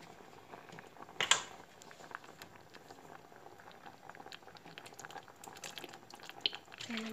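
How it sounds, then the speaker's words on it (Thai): A pot of Thai mixed mushroom curry simmers at a steady, quiet boil, with soft continuous bubbling and a brief utensil clatter near the start. "เดือดแป๊บหนึ่ง"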